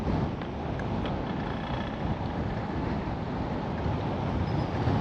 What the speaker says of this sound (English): So it's kind of windy out.